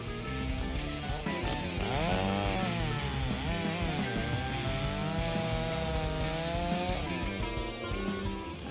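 A Stihl MS661 chainsaw cutting firewood, its engine snarling continuously with wavering pitch as the chain bites into the wood, loud and close throughout.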